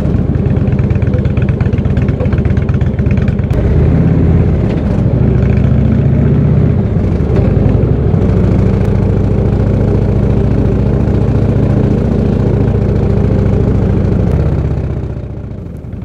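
A motorcycle rides a narrow road near Castello di Avio in the Adige valley, its engine droning loud and steady close by, rising and falling with the throttle for about sixteen seconds.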